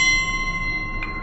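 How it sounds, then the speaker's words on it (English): A small Wuhan 5-inch gong rings with a steady, shimmering metallic tone that sustains evenly, with a light tap sounding near the end, played alone without voices. "My wonderful Wuhan 5-inch gong."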